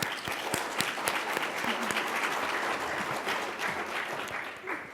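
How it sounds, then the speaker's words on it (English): Sustained applause from a crowd, steady clapping filling the room for several seconds without pause. "let's give them a round of applause"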